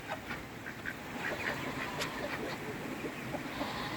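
Ducks and chickens on a flooded homestead give faint, scattered quacks and clucks against a steady wash of background noise, distant-sounding and with no voices.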